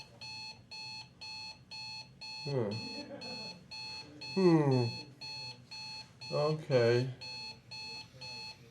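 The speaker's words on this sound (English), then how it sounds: "which thing is beeping?" Repeated electronic beeps in steady short bursts, high-pitched and regular, with a voice speaking briefly in between.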